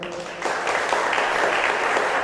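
A retreat congregation of sisters claps together in thanks, a dense, steady wash of many hands that swells after a brief quiet start and holds evenly at close range.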